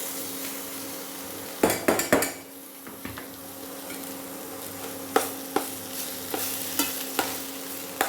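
Bitter gourd frying in a pan with onion and turmeric for kara kuzhambu, a soft steady sizzle broken by a few loud close scrapes and clanks of a ladle against the pan, then lighter periodic taps.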